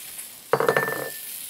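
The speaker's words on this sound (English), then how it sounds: "So in goes some diced shallots." Diced shallots dropped into a hot pan with browned chicken, a sudden loud sizzle that settles into steady frying alongside a few clinks of a utensil against the pan, close up with no talking.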